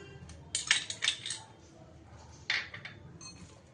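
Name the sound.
mixing ginger, garlic and green chili paste into chicken paste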